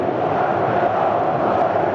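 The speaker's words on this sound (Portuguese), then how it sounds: "E a torcida do Cruzeiro agora grita que é o melhor goleiro do Brasil" Cruzeiro supporters in a packed stadium roar and chant together, a dense, sustained crowd sound with no breaks.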